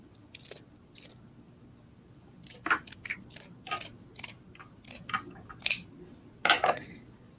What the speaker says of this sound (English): I'm going to cut from one corner to the other.